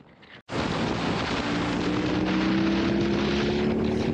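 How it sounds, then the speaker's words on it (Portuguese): A BMW R18 motorcycle in Rock riding mode accelerates: after a brief quiet moment, a loud engine roar bursts in and climbs steadily in pitch, mixed with heavy wind rush from riding at speed. "Primeira acelerada com a R18 no modo Rock"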